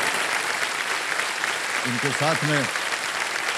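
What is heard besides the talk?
audience applause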